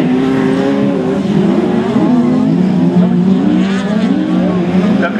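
Hillclimb race cars at Bredon Hill, Class 7, labouring around a corner, engines loud and continuous with rising and falling revs as several cars pass close.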